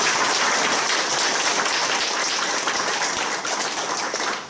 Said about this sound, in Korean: 다같이 힘찬 박수로 환영해 주시면 감사하겠습니다